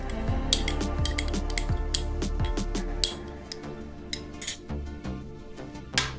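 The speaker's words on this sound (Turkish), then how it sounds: "Şöyle gördüğünüz gibi hemen karıştırıyorum." A spoon stirring yogurt, oats, olive oil and flaxseed in a bowl, with bright clinks and scrapes at an irregular rhythm, close and alone over soft background music.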